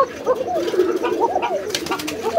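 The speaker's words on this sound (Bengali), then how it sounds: "এখানে আরো এক জোড়া কবুতর আছে" Pigeons cooing in a loft, soft repeated rolling coos up close, with some faint background rustle and noise.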